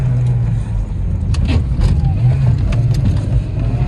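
Rally car on a rally stage accelerating hard at full throttle, its engine droning loud and close from inside the car. A voice calls out briefly over it.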